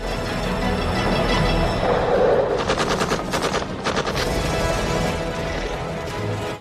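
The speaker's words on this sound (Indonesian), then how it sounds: "sniper itu kembali menghujam Papih dengan tembakan yang menyebabkannya tewas." Sniper gunshots in a war film, a rapid burst of sharp cracks clustered mid-stretch over a dense, noisy battle background.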